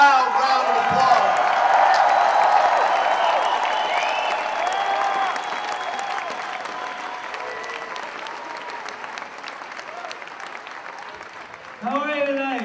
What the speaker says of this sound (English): Please give him a loud round of applause.